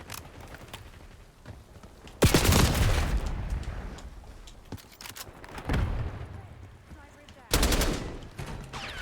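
Bursts of automatic gunfire in a Black Ops 6 multiplayer match, loud sharp volleys around the start, middle and end over steady background game noise, with occasional voice in the mix.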